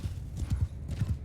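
Horse hooves clop in a rhythmic series of soft, low thuds during a medieval video game battle, with a faint high whinny-like tone above the hoofbeats.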